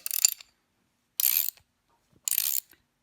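A ratchet wrench tightens a brake line fitting in a double flare tool. It gives three short bursts of close, crisp ratcheting clicks with brief pauses between them, and no talking.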